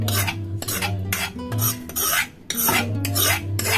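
Spoon stirring boiled tomato paste into cooled seasoned yogurt for Telugu tomato perugu pachadi, a steady scraping and clinking of utensil against the bowl in repeated strokes, close and fairly loud, with no talking.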